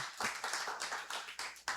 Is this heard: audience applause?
yes